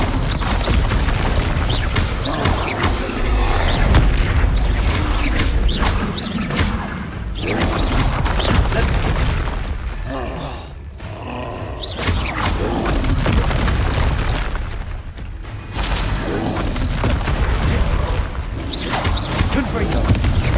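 Repeated booming blasts and crashes as the Incendio fire spell is cast in Hogwarts Legacy, dense and loud throughout with a short quieter gap midway, with a voice speaking over the effects.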